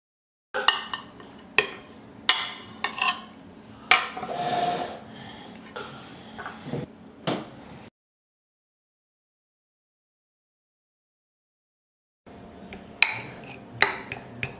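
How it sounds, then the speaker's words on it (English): Utensils scrape and clink against a bowl as egg yolks are scooped out for deviled eggs, a series of close, sharp taps and scrapes with a silent pause before more clinks resume. "I'm going to place the yolk into the bowl."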